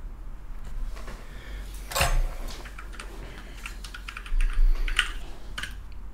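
Clacky keystrokes on a KBD8X mechanical keyboard ring out in irregular bursts, with a few louder strikes standing out against quiet room noise.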